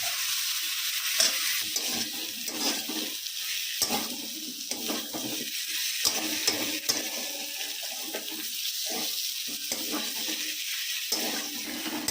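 Spice paste with ground coriander and cumin sautés in oil for a crab curry, a continuous hiss of sizzling with intermittent scraping strokes of a spatula, close and steady, no talk.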